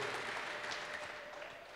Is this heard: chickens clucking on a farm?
no